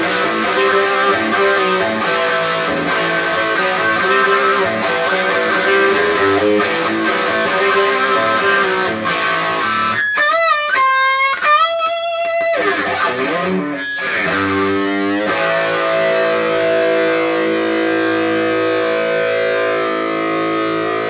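Electric guitar through a DIY humbucker built from Stratocaster single-coil pickups, played with retro high-gain distortion: loud, sustained chords that break midway into choppy stabs and sliding bends, then ring out, with no voices.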